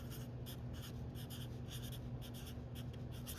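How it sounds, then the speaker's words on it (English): A pen scratches across paper as a first name is written by hand, soft repeated strokes in a quick irregular rhythm over a steady low background hum. "So I'm going to write my name down here."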